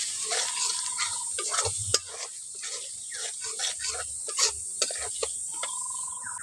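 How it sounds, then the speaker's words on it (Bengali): Red chilli and turmeric powders fry in oil in a pan for a shrimp and pointed gourd dish, giving a steady close sizzle broken by repeated scraping strokes of a stirring spoon. "ওগুলো দিয়ে মশলাটাকে একটু ভালো করে কষে নিচ্ছি।"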